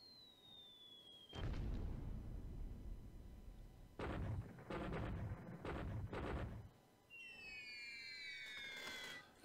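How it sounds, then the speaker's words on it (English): Machine gun fire in a WWII Pacific war strategy video game comes across as loud, booming, bomb-like blasts in several sustained bursts, with a rising whistling tone at the start and several whistling tones near the end. "Machine guns that make bomb noises?"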